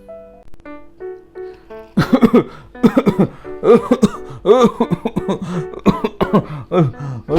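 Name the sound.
coughing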